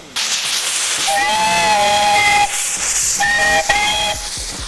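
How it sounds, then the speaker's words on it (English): The Romney Hythe & Dymchurch Railway steam locomotive Bug pulls out of New Romney Station toward Dungeness, giving a loud, sustained steam whistle in two long blasts over hissing steam. "With a full head of steam, the Bug pulls out of New Romney Station, heading to Dungeness right on time at 9:30."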